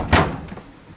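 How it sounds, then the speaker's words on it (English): A wooden lock block in a cabinet door drops into its notch with a single close, dull thunk, followed by a fainter knock and brief rattle. "as I bring this door up, that block is going to come down"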